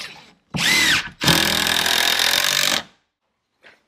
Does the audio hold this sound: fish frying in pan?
no